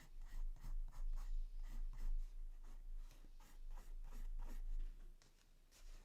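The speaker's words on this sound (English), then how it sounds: "I'm really just flicking the pencil." Colored pencil flicked across paper in quick, short strokes while shading hair in a greyscale coloring demonstration, a steady series of soft, close scratchy sweeps with no talking.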